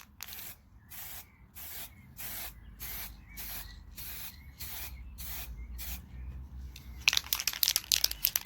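Spray paint hisses onto a Jawa Babetta 210 moped part in a series of about ten short, even bursts with brief pauses between, close and steady, followed by quicker crackly spurts near the end.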